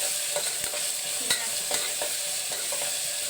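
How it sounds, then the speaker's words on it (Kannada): Chitranna ingredients fry in a pan until reddish, a steady close sizzle with periodic scraping stirs, no voices. "ಸ್ವಲ್ಪ ಕೆಂಪಗಾಗೋದ್ರಿಂದ ಹುರ್ಕೋಬೇಕು"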